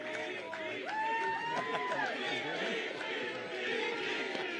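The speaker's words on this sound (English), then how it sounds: "the crowd chanted VP, VP, VP at Vivek" A rally crowd chants for Vivek Ramaswamy, voices rising together in repeated, sustained calls over a background of general crowd noise and chatter, heard at moderate distance.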